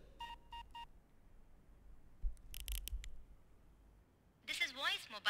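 Keypad tones as a voicemail code is punched in on a mobile phone: a quick run of three short beeps near the start, then a hushed pause before a voice comes in near the end.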